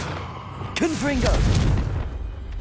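Confringo fire spell blasting in the Hogwarts Legacy video game, a sudden boom with a low rumbling tail under a shouted voice and a short gliding vocal call.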